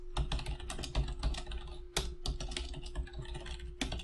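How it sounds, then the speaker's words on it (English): Someone types code for a Direct2D timer class on a computer keyboard: dense, fast, close-up key clicks with a few louder spacebar or enter strikes, continuous with no talking. "And we'll type HP Timer"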